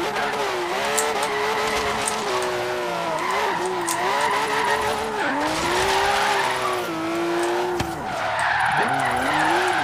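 A Porsche in the video game Forza Horizon 3 spins out, and its tires skid and squeal continuously for about ten seconds over a loud, wavering engine drone, with no talking.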